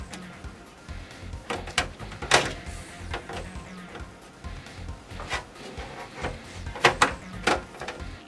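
Screws driven into a computer case while building a PC, giving a series of short scraping, clicking metallic bursts at irregular intervals, close and moderately loud with no talk.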